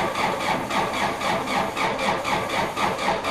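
A Ransomes lawn mower engine with starting problems turns over in a rapid, rhythmic chugging pulse, close and fairly loud, without settling into a clean run.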